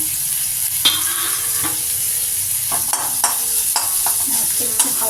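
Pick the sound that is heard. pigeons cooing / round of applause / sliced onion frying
sliced onion frying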